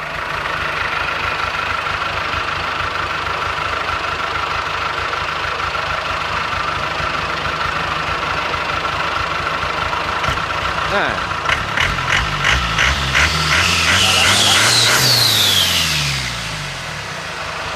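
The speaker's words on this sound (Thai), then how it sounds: "เสียงดูดดีจริงๆเลย เสียงเอาการ" A drag-tuned car engine with an F5 head idles steadily up close with a low throaty intake hum, then revs briefly with rising and falling pitch before settling back down.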